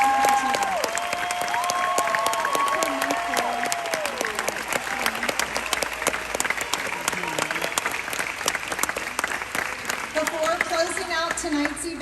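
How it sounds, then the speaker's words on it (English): Sustained applause from a crowd at a graduation ceremony for the class of 2022, steady dense clapping throughout at moderate distance. "Let's give one more round of applause for the class of 2022."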